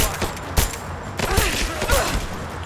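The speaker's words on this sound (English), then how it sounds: "Open fire!" Several bursts of gunfire in the video game Rise of the Tomb Raider, a quick scattered volley of sharp cracks over a few seconds with brief shouting voices between shots.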